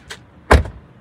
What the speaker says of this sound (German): wenn man die Tür auf und zu macht danach.